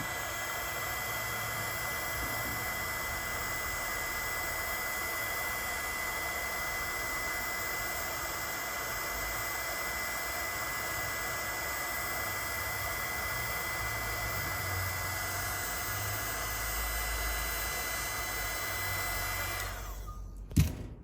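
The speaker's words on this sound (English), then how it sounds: "We're just gonna pull out our heat shrink a little nicer. Shrink this one." A heat gun runs continuously at close range, blowing a steady, loud airy roar for about twenty seconds while heat shrink tubing is shrunk onto a wiring connector in a car build, ending with a clunk as it stops.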